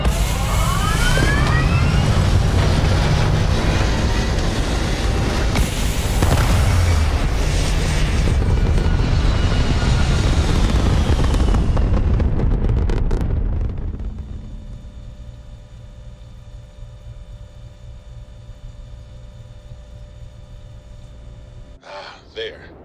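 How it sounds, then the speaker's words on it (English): A spaceship lifting off in the Starfield video game: a loud, dense roaring rumble with sweeping tones builds for about thirteen seconds, then fades abruptly into a quiet, steady, humming ambience with a brief sound at the very end. "We have liftoff."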